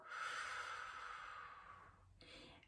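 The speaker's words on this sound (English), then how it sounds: "and then breathe out" A slow, breathy exhale during a breathing exercise drifts out softly and close for about two seconds, then fades, followed by a short quieter breath.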